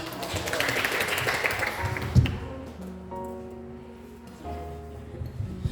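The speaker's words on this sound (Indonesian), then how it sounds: "sekali lagi tepuk tangan buat kelompok 6" Students applaud a group presentation, a brief burst of many hands clapping for about two seconds before it dies away into quieter room sounds and voices.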